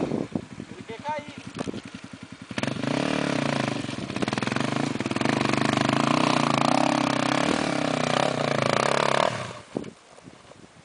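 Trail motorcycle engine running on a steep slope, a low pulsing putter that rises into a sustained loud drone before cutting off, with voices talking over it.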